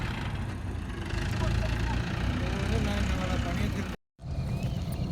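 Tractor engine running steadily in a farm field during wheat threshing, a low constant drone heard at a distance with no talk, cut by a brief dropout near the end.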